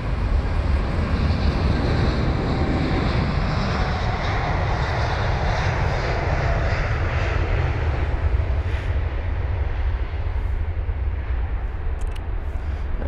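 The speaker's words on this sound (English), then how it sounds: "It's not even the A320neo that's making the noise, it's the A321neo." Airbus A321neo jet engines at London Heathrow give a loud, steady roar with a broad rumble that holds for about thirteen seconds, with no voices over it.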